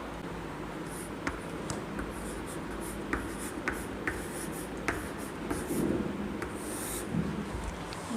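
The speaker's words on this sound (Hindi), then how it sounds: "लिखते हैं इसको हम।" Chalk tapping and scratching on a classroom board as a teacher writes month names, quiet rhythmic strokes with short pauses.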